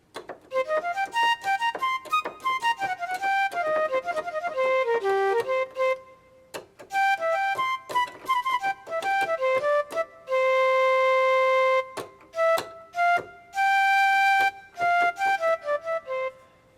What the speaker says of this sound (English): a flute is a very easy instrument to sample